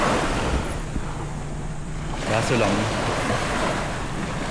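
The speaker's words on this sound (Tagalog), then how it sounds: "Lapit lang yung dagat. Ito yung cottage. Ayan lang yung dagat." Steady broadband wash of surf on a beach in Mauban, Quezon, Philippines, with wind buffeting the microphone and a short spoken phrase in Filipino partway through.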